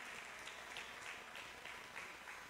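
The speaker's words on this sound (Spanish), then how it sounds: "denle las palmas a Él si son para Él" Audience applause breaks out during a church service, a steady wash of clapping with rhythmic accents recurring through the moment, moderately distant and fairly quiet.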